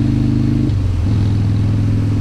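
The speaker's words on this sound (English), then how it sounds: "we are on the 2016 Harley-Davidson Street Bob. It's got the 103. It's got Vance and Hines" A 2016 Harley-Davidson Dyna Street Bob with the 103 engine and Vance and Hines exhaust rumbles loud and close, its steady throb briefly dipping and then swelling back on a cold day ride.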